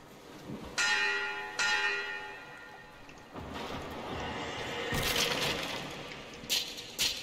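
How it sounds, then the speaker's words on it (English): Heavy bell struck repeatedly in the video game Metro Exodus, several loud clangs ringing out with long resonant decay over a background of game ambience. "Ring the bell."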